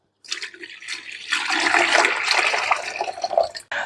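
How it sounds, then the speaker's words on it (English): Rinse water poured off homemade butter from a bowl, a close splashing, gurgling pour that builds quickly and runs for about three seconds before tapering off. "Let's just pour this off."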